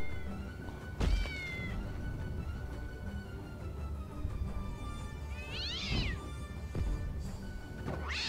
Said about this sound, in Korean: 스핑크스 고양이?